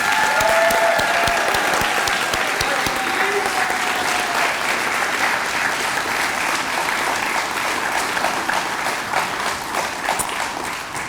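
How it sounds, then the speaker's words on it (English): A large audience at a college LPN nursing pinning ceremony claps in sustained, loud, dense applause that holds steady for the whole stretch and tapers only slightly near the end. "Let's give them another round of applause."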